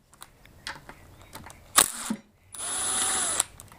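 A power tool backs out the 12mm detent bolts on an H22 transmission during a rebuild. A short whir comes first, then a clatter, then a steadier high-pitched spinning burst of about a second, close by.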